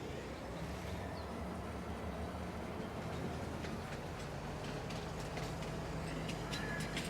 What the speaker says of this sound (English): Now we can get in our train.